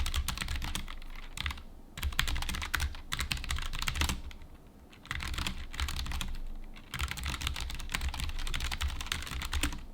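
Rapid typing on a mechanical keyboard with linear switches, dense bursts of close key clacks broken by short pauses, with no talking.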